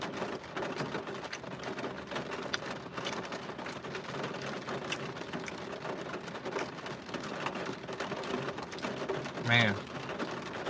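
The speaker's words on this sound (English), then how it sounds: "I'm out here in the rain at the park." Steady rain falling in a park, a constant wash of droplets filling the background with a brief louder spike near the end as a voice briefly cuts in.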